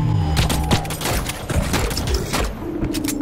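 Gunfire in the sci-fi shooter The Cycle: Frontier, a burst of close, rapid shots mixed with thuds and in-game effects, steady and loud for a few seconds without talk.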